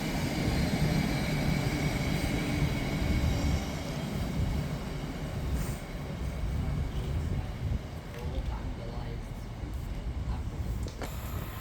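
An Avanti West Coast Class 390 electric train passes through Nuneaton station on the West Coast Main Line, making a sustained broad rumble and rush that stays loud throughout before easing slightly.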